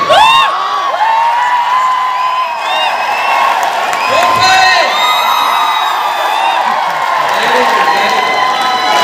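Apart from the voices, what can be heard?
audience whistling and clapping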